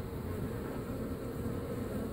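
Dense, steady buzzing of many honeybees at close range during removal of a top bar hive colony from an apartment building in Tampa, Florida.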